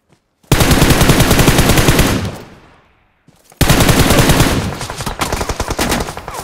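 Automatic gunfire in a battle royale video game: two long, loud, rapid bursts of machine-gun fire, close by, with a short pause between them, no talk heard.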